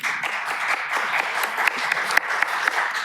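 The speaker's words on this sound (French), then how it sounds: "que je vous invite à applaudir" A conference audience applauds as a health-association president is welcomed to the stage, a continuous bright patter of many hands clapping at steady intensity throughout.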